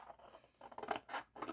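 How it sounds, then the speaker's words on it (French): Small scissors snipping through paper while crafting a little chocolate box, giving a few quiet, crisp cuts in a short uneven rhythm, close up and alone. "J'aime mes petits ciseaux."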